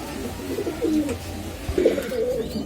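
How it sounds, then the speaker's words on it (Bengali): A golden adult female pigeon coos softly in a couple of low, rolling phrases, close by and alone against faint background noise. "এটা হলো একটা গোল্ডেন নিউ অ্যাডাল মাদি কবুতর"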